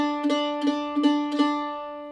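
Mandolin repeating the lower drone note of Jingle Bells, four evenly spaced plucked notes on one steady pitch, close and clear, each ringing brightly before the last one fades out.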